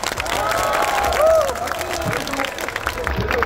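Audience at a party founding rally in Haeundae, Busan, applauding steadily as a dense, even wash of clapping with a few voices rising through it.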